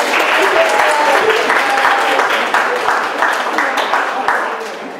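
A live audience at an Ignite Taipei talk event gives loud, dense applause that holds steady throughout and fades slightly at the end.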